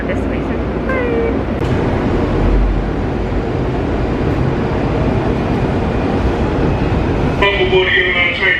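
A train moves through a Washington, D.C. station with a continuous rumbling roar, and brief high horn or brake tones sound near the start and end. People talk over it throughout.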